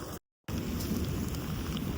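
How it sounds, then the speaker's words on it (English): Steady rain falls with a deep rumble of thunder during a mountain thunderstorm on the Pacific Crest Trail near Taboose Pass, loud and continuous after a brief dropout at the start. "thunder, lightning strike and thunder. I'm getting wet."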